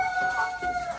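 Purebred breeding hens and a rooster cluck and call in short, close bursts, with a sustained crowing tone running through the brief moment.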